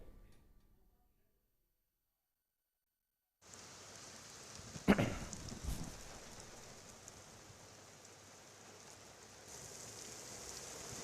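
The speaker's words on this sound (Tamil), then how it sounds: "இதேபோல சோழிங்கநல்லூர், செம்மஞ்சேரி, மேடவாக்கம், மாடம்பாக்கம், ஓஎம்ஆர் சாலை, நாவலூர் உள்ளிட்ட புறநகர் பகுதிகளிலும் இரவில் மழை பெய்தது" Heavy night rain falling over Chennai's southern suburbs along OMR, a steady wash of hiss that starts after a few seconds of silence, with one brief louder thump partway through.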